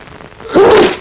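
A single loud, close sneeze bursts out after a brief quiet moment, with no talking.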